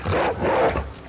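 A dog in The Last of Us Part II gives a couple of short, close, loud growling barks in quick succession over game ambience.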